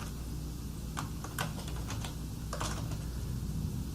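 Typing on a computer keyboard, a few quick clusters of crisp keystrokes at close range with short pauses between, alone over a steady low background hum.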